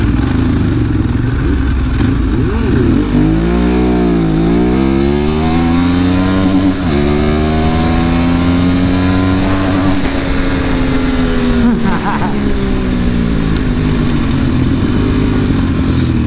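A Ducati 748 motorcycle engine revs up and down repeatedly, its pitch climbing and falling in loud, close sweeps with a steady roaring drone throughout.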